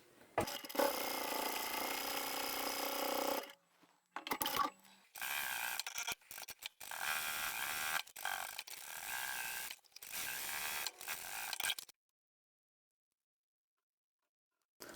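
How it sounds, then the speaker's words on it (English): A sewing machine stitches down the side of a fabric lanyard with a fast mechanical whir-rattle, running in several bursts with short pauses before stopping into silence. "We'll go on to the other side and sew down this side."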